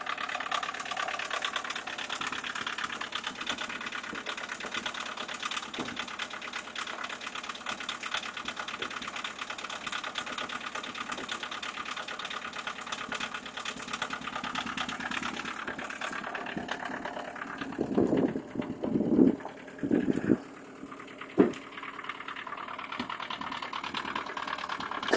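A 1984 VW Jetta turbo diesel idles after a cold start at high altitude near Yellowstone, a steady mechanical chugging drone throughout, close by, with a few louder knocks or pops near the end.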